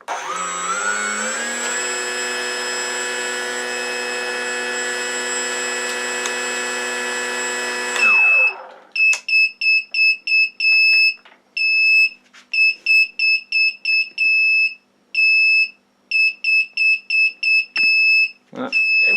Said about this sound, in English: then the motor will stop and the buzzer will come on